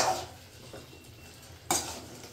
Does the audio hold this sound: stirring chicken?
yes